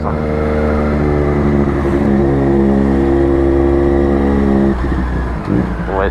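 A loud motorcycle engine drones steadily with rising and falling revs, close by and continuous, while a voice speaks faintly underneath near the end.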